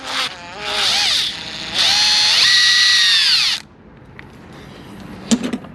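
A variable-speed power drill whines close and loud, rising and falling in pitch through two runs, then stops, leaving quieter handling noises and a brief clack.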